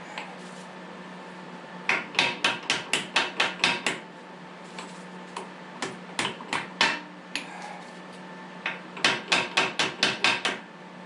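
Small hammer striking Mahindra subcompact tractor hydraulics, sharp metallic taps in quick bursts of rapid blows separated by pauses and a few isolated strikes, close and clear.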